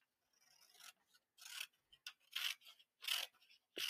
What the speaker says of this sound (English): So on our array, we're just going to cut around the outside here.